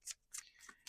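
Tarot cards being shuffled by hand, a few quick, soft riffling bursts close by at a low level, no voices.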